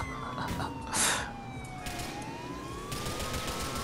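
Wailing siren in a video game, with pitch sweeping up and down, a short burst of noise near the start, and continuous game sound underneath.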